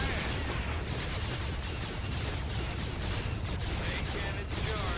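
A starship's main cannon firing in the Star Wars: Empire at War space strategy game, a dense, continuous barrage of booming blasts and rumbling battle noise with no pauses.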